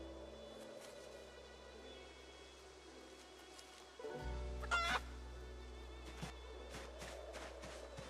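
Chickens in the video game Project Zomboid, set in a wintry Louisville, cluck and crow in a flock over a low steady hum, with one louder crow rising midway and scattered short clucks around it.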